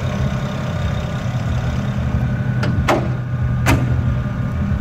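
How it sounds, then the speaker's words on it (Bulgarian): A BMW E91 335i with the N54 twin-turbo straight-six idles steadily with the hood closed, its injector ticking muffled to a low even hum, joined by a few short sharp knocks partway through. "Реално като се затвори капака, този шум почти не се чува и съвсем различен е шума на двигателя тогава."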